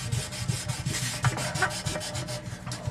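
Hand sanding of acrylic sheet with 1000-grit paper, a steady dry rubbing scrape that runs continuously with a few slightly louder strokes, close and fairly quiet, no voices.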